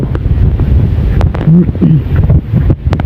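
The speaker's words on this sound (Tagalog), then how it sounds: "Makulog pa rin ang baha." Floodwater roars steadily and close by, a loud, unbroken rushing wash with no pauses, near a road cut off by two landslides.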